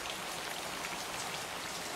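Steady rain falling, a dense, even hiss of countless drops on surfaces, continuous and fairly loud throughout with no voices over it.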